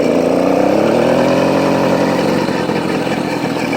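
A small motorized bicycle engine runs loud and close, a steady buzzing drone with no pause or talk.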